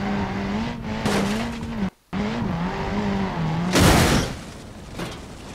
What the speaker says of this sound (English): Right, so that's your car accident.